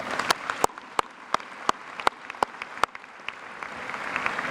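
An audience at a high school graduation applauds, with scattered sharp claps standing out in an irregular rhythm over a soft, steady wash of background noise.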